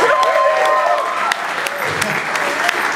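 Audience at a wedding reception applauds the bridesmaids during the best men's speech: steady, dense clapping throughout, with a voice speaking over it.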